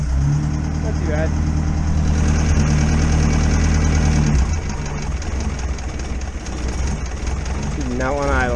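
A car engine idles unevenly after a one-day exhaust build from junk parts, a loud steady low rumble with talking over it, dipping as the idle falters midway before picking back up.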